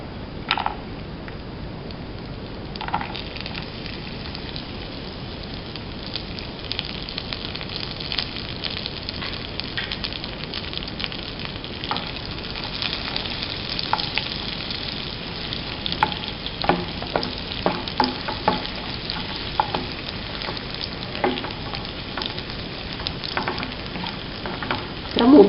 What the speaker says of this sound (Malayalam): ചൂടായി വന്നിട്ടുള്ള ഈ നെയ്യിലേക്ക് അണ്ടിപ്പരിപ്പും കിസ്മിസും വറുത്തെടുക്കുക.